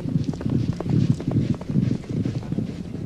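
Racehorses' hooves clip-clop in a steady, close rhythm across a training yard during early morning gallops, over a constant low rumble with no voices.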